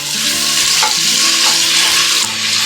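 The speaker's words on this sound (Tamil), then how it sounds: "இப்போ இதில் கொஞ்சமாக நான் உப்பு சேர்த்தி வெங்காயத்தை நல்லா புரட்டி கொடுத்துட்டு" Onions with salt frying in a rice cooker pot, stirred and turned over: a loud, continuous sizzle with scraping strokes of the spoon, close and alone.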